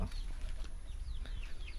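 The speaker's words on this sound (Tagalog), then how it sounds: "Mga inahin natin na may mga sisiyo" Soft clucking and high peeping chirps from free-range hens and their young chicks, close by, over a steady background hiss.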